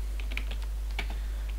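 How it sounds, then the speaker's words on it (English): Typing on a computer keyboard, a quick run of light close clicks in an uneven rhythm over a low steady hum, with no talk. "type in"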